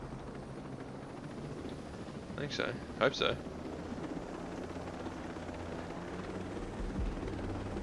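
A steady helicopter rotor drone runs under the whole stretch of Ghost Recon Breakpoint gameplay, while someone talks over it.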